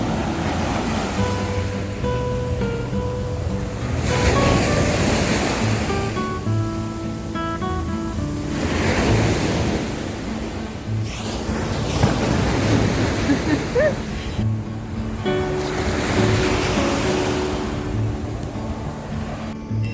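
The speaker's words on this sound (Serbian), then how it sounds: "Nemirno more, prelepo more" Rough sea waves off Santorini surge and wash in broad, rolling swells, with steady wind-blown roar and faint voices mixed into the background throughout.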